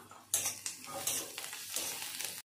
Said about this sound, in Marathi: आता कांदा लालसर रंग येईपर्यंत कांद्याला परतून घेऊया।